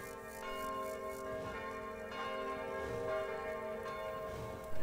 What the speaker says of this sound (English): So the bells have rung